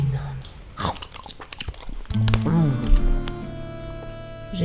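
Someone bites into a chicken leg, a short crunching chew heard close, with music and voices carrying on around it.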